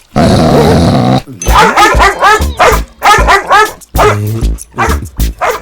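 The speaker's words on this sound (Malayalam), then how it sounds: "ശിവൻകുട്ടി ഞാനാണ് പറയണത്, ഈ പട്ടിക്ക് ബിസ്ക്കറ്റ് കൊടുക്കരുത്." A dog growls, then breaks into a run of loud, close barks and yips, with short pauses between bursts.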